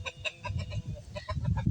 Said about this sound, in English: These are other chickens. They're full grown.